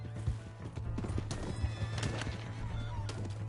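Horse hooves clip-clop at a gallop in the Red Dead Redemption 2 video game, with whinnies and neighs over a steady low hum, close and continuous.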